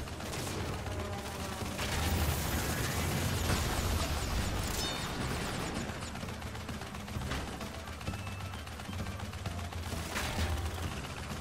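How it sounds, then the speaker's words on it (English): Constant shooting in Crash Bandicoot Warped, a dense, steady stream of rapid mechanical shots and clattering game effects running throughout at a fairly even level, with no talking. "I'm just constantly shooting now"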